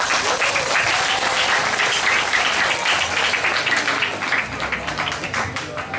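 Audience at a religious lecture applauding, a dense, steady wash of many hands clapping at once that holds loud for most of the stretch and thins slightly toward the end, with some voices faintly mixed in.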